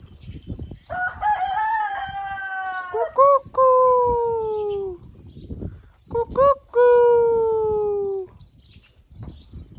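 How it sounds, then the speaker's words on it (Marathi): A rooster crows at morning on a farm household, several long drawn-out calls with short breaks between them, loud and near, with faint voices in the background. "कोंबडा करतोय कुकू"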